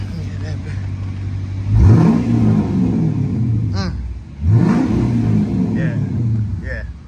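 A Chrysler 300 V8 with a loud Hellcat exhaust, mid muffler delete and rears off, revs hard twice from idle, each surge rumbling up and settling back, with people talking nearby.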